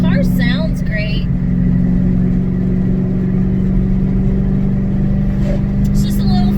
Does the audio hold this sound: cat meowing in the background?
no